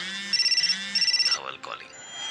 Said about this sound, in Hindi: उसी वक्त दोनों का फोन एक साथ बजा